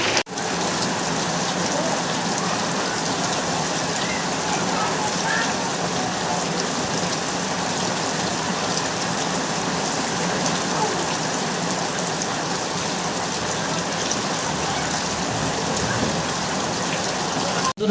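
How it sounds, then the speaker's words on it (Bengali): Steady rain falls in a continuous, even hiss of drops hitting surfaces, loud and unbroken for the whole stretch. "বৃষ্টি দেখে নিজেকে আটকে রাখতে পারলাম না, তাই বৃষ্টিতে নেমে পড়লাম গোসল করার জন্য।"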